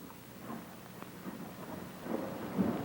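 Thunder from a lightning storm, a faint, distant low rumble that rolls and swells unevenly under a soft wash of rain, rising slightly toward the end, with no one speaking.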